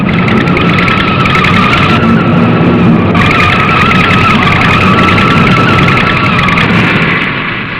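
A car twists and turns along a winding road, its engine droning loud and steady while tyres squeal and scrub through the bends, the sound easing slightly toward the end.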